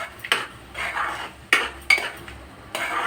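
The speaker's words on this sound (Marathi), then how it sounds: "आता ही चमच्याने एकजीव करणार आहोत" A spoon mixes three eggs in a pan for anda bhurji, with close, sharp clinks and scrapes of metal against the pan coming in irregular bursts over about three seconds, and no speech.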